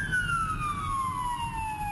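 An ambulance siren, called out to an East Toronto address, wails as a steady falling tone at moderate distance over low rumbling background noise, with no talk.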